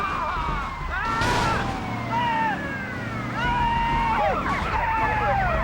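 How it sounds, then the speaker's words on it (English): A police car siren from GTA Vice City wails in rising and falling sweeps throughout, loud and close, layered over other game sounds. "Cop car trailing him."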